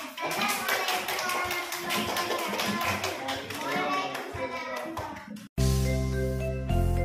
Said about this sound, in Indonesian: silakan berikan tepuk tangan untuk teman kita